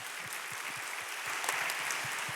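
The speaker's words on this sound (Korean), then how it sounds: "우리 박희성 선교사님 나오실 때 우리 크게 박수하며 환영하겠습니다" A church audience applauds to welcome a missionary to the stage, a steady round of clapping from many hands filling the room.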